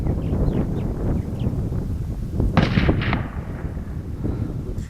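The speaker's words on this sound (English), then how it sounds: "And she made a beautiful shot." A hunting rifle gunshot fired in South Africa at a little over 400 yards, a single sharp crack around midway, heard outdoors over steady wind noise on the microphone with no talking.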